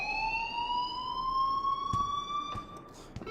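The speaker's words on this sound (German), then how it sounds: "please turn off that alarm since that's your job" Fire alarm wailing in the Life is Strange video game, a steady rising electronic tone held at moderate volume with a few sharp clicks near the end.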